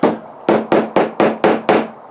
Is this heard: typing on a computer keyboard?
no